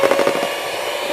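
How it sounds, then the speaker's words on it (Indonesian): An electric hand mixer whirs steadily at a low speed while beating steamed pumpkin cake batter in a bowl, a loud continuous motor hum with a slight rhythmic wobble at the start. "Terus ini di mixer lagi deh."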